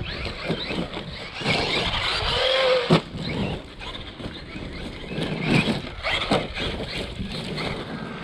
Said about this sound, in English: that motor's really lagging out